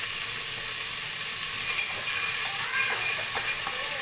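Chickpeas and browned onions fry in a pan for Ramzan chana masala, a dense, close hissing sizzle with a few faint clinks and stirring scrapes over it.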